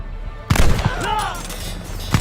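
Close, sharp rifle shots and a short burst of gunfire in a Call of Duty Vanguard campaign battle, punctuated by shouting voices over the din.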